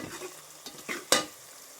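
Chopped onion frying in oil and ghee for chicken biryani, with a soft steady sizzle broken by a few louder scrapes and stirs close by, no voices.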